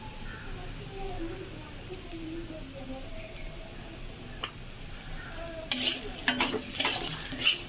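A frying pan of spinach with turmeric is being stirred, a steady soft sizzle with a burst of louder scraping and clattering near the end; talk is heard earlier.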